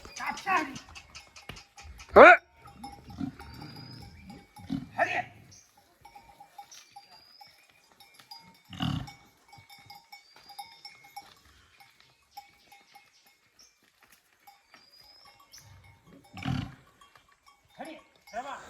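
Cattle are led out to graze in the morning in a Konkan village near Bhadgaon. Scattered cowbell clanks and animal sounds rise and fade over mostly quiet outdoor air, and people talk at intervals.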